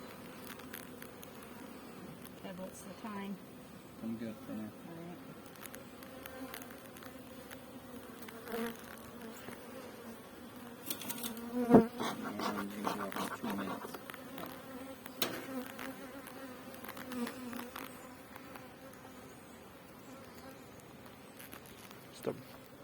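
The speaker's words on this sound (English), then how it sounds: "So many bees on the ground." A dense swarm of honeybees hums steadily at an apiary, close and continuous, with scattered louder passes of individual bees near the microphone and a brief sharp bump midway.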